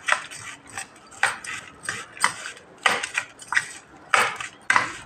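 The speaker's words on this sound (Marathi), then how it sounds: "ही चटणी घालायची आहे आणि थोडंसं तेल टाकायचे असं आणि हे पूर्ण मिक्स करून घ्यायचं आहे" Papad being mixed by hand with chutney and a little oil, giving a run of dry crackling, crunching clicks in irregular bursts, close and fairly quiet, with no voices.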